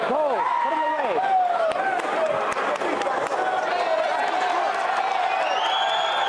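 A crowd cheers and roars in a packed arena at a Power Slap event, a dense, loud, continuous wash of voices and noise with a commentator talking over it.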